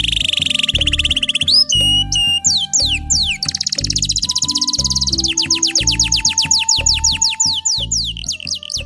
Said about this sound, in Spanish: escucharon el peculiar silbido de un pajarito